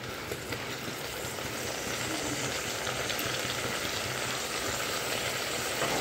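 Two tomatoes dropped into a pan of sautéed onions for vegetable rice, frying with a steady, dense sizzle that holds evenly throughout, close and alone without voices.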